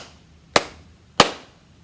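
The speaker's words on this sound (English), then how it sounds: "Ready? Clap with me." Two sharp, separate hand claps, spaced a little over half a second apart, loud and close in a quiet room with no talking.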